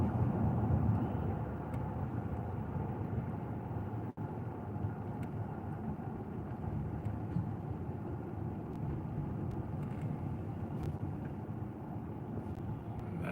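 Cabin of a Ram 1500 pickup with a 5.7 liter Hemi engine on the move, a faint, steady low road and engine rumble with a brief click around the middle and no talking.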